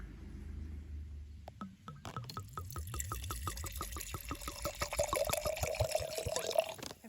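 Vodka pours into a jar of harvested ghost pipe, a quiet, close gurgling stream after a couple of faint clinks, rising in pitch as the jar fills.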